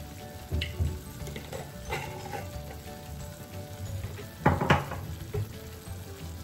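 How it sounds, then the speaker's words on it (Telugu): Boiled raw plantain pieces frying in oil in a pan, a steady close sizzle with occasional scraping stirs and clinks. "ఇప్పుడు మూకుడులో నూనె వేసుకుని దాంట్లో అరటికాయలు వేసుకుని"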